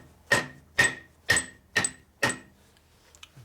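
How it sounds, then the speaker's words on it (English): Hammer tapping a gear into a 1984 Harley-Davidson Shovelhead four-speed transmission: five sharp metallic taps at a steady, even rhythm, close and fairly loud, with a faint rattle after. "So you take a hammer and tap it in."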